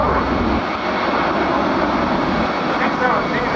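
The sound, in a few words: C-17 Globemaster III aircraft flying slowly at airshow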